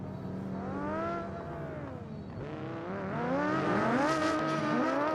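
A Formula Three race car in a racing game warms its tyres before a rolling start at the Hirochi Grand Prix, its engine revving up and down in sweeping pitch changes, loud and close, and climbing higher toward the end.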